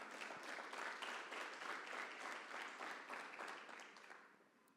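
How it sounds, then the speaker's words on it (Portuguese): A church congregation applauding during a sermon, dense clapping that sounds fairly distant and quiet, holding steady before fading out toward the end. "Você pode aplaudir o Senhor Jesus por isso?"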